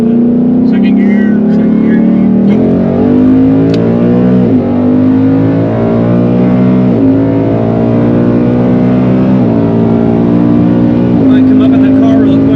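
E85-fuelled Ford Mustang pulling hard in second gear, a loud, steady engine roar that climbs in pitch throughout with brief dips at shifts or throttle changes, close up and continuous, with talk faintly underneath.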